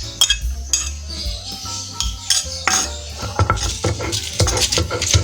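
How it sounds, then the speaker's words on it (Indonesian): Bird's eye chilies are pounded with a mortar and pestle, making irregular dull thumps and grinding scrapes with occasional clinks, close and fairly loud, with no speech. "awalnya kita ulek dulu cabai rawitnya"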